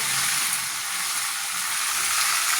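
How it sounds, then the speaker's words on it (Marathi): Brinjal pieces sauté in hot oil with turmeric, a steady dense sizzle and crackle filling the pan throughout, close and even with no voices. "छानसं असं परतून घेणार आहोत वांगी"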